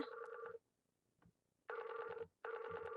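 A phone rings with an incoming call, two loud, steady electronic ring bursts separated by a short pause, with a faint brief knock between them and no talking.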